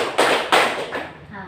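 A junior high school class performs the "tepuk siang" clap game, with three quick, crisp bursts of group hand clapping in an uneven rhythm, each one decaying fast into the room.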